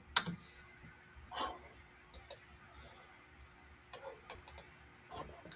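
Scattered quiet key clicks and taps from a computer keyboard, a few separate presses spaced across a few seconds rather than steady typing, close and soft with faint room hiss behind.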